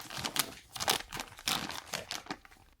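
A heat-sealed nylon bag holding a nitro RC buggy engine crinkles and rustles in quick, close bursts as it is handled and pulled open, with no voice present.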